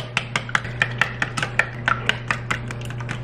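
Eggs are whisked in a bowl, a quick run of regular clicking taps of the whisk against the sides over a low steady hum, close and clear, with no talking.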